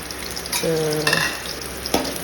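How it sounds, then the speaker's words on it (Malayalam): Green chillies and shallots sauté in hot coconut oil as they are stirred in a pan, a soft steady sizzle broken by a few scrapes and a brief tonal squeak, close and moderate in level. "ആ വെളിച്ചെണ്ണ ചൂടായി കഴിയുമ്പോൾ നമുക്ക് അരിഞ്ഞു വെച്ചിരിക്കുന്ന പച്ചമുളകും ചുവന്നുള്ളിയും ചേർത്ത് നന്നായി വഴറ്റിയെടുക്കാം."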